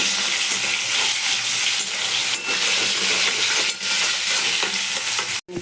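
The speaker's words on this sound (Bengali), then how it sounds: "একসঙ্গে ভালো করে ভাজা ভাজা করে নেব" Cumin seeds, green chili and onion fry in a pan, giving a loud, dense sizzle with scraping stirs, then a sudden brief drop near the end.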